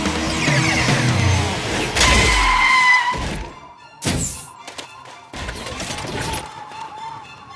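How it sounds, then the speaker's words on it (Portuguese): A cartoon rescue bus arrives in a burst of loud thunks and crashing effects, followed by sharp bangs and a lighter tail of movement sounds, with brief voices. "O ônibus de resgate, que legal."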